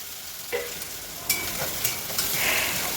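Carrot, onion, green chilli and ginger stirred in a hot pan with curry leaves for upma, a steady sizzle broken by a few sharp spoon scrapes and clinks, close and alone.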